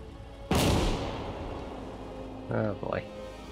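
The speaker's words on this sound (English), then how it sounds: "Shoot in there, please." A single loud gunshot blast in the World War II game Call to Arms - Gates of Hell: Ostfront, with a long decaying rumble, followed by two shorter, weaker shots around a brief voice about two seconds later.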